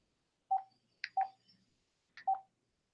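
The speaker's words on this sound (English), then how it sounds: "so there's a phone call right there" Three short electronic telephone tones of an incoming call ring out alone against silence, evenly spaced, each a bright beep led by a quick higher chirp, interrupting a weekly Guam real estate market update.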